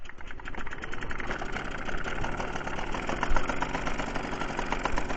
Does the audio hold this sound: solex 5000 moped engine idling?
yes